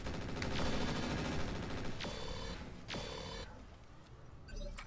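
Weapon fire in the Roguetech mod of the BattleTech video game: a few sharp, loud shot bursts in a row over a dense, continuous game soundscape.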